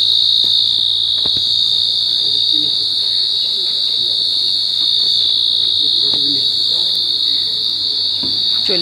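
Crickets chirp steadily at dusk on a hilltop in rural Bengal, a loud continuous high trill that fills the whole stretch without pause, with faint distant sounds underneath.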